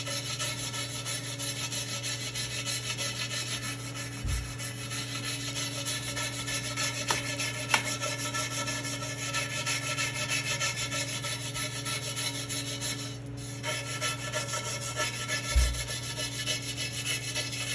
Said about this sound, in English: you're going to be scraping at it. Scrape at it until nothing else comes up.